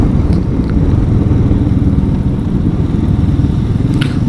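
Motorcycles idle and rumble while queuing at a checkpoint entrance on a scenic road near Kotagiri, a loud, continuous engine drone heard close by.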